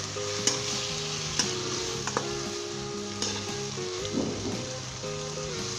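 Shredded chicken stir-fried over a high flame, a steady loud sizzle of frying with repeated sharp scrapes and clinks of a spatula stirring against the pan, and no voices.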